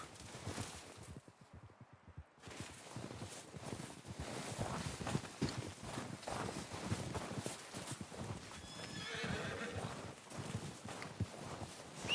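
Horse hooves clip-clop at a steady walking pace in the video game Red Dead Redemption 2, close and rhythmic, with a brief pause early on before the plodding resumes.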